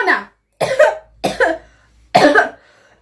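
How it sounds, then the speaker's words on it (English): A person demonstrates coughing, letting out four separate harsh coughs close to the microphone with brief pauses between them. "If you feel like you have a cough and you're in a public space, cough like this."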